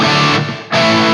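A Friedman Runt 50 guitar amp plays with the gain near full and the boost off, pushing a percussive, aggressive JMP-style distortion. Two loud sustained chords are miked close, with a brief dip between them.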